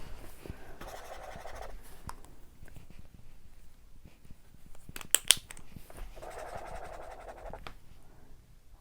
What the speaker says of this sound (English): so we're going to just write it here.